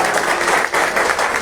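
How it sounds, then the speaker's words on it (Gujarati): An audience at a devotional music performance breaks into loud, dense applause, with many hands clapping together in a steady burst close by. "બધા જોરદાર તાળીઓથી વગાડે"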